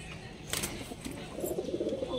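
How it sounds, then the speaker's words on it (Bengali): A loft of pigeons for sale, among them a male Andhra Phulshira, coos in low, rolling, repeated notes that build toward the end, close by, over a steady background hum and a few brief clatters. "এই দেখুন এই আর একটা অন্ধ্রা ফুলশিরা নর পায়রা আছে"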